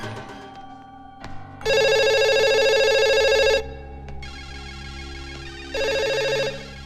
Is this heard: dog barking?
no